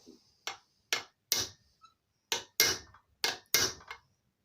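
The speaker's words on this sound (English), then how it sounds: "let's put this rivet down" A hammer strikes a rivet on a BSA Bantam fitted with a Yamaha clutch conversion, sharp metallic blows in irregular pairs and singles, about eight hits, loud and close with silence between them.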